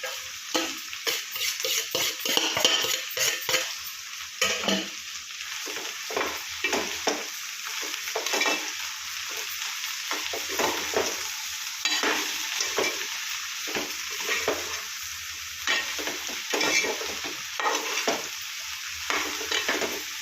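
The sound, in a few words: okra frying and being stirred in oil with spices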